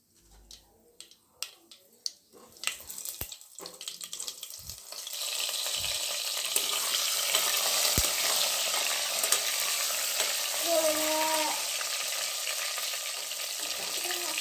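Stuffed brinjal drops into hot oil seasoned with mustard seeds and cumin, a few clatters and pops giving way to a steady, loud, dense sizzle that carries on without talk.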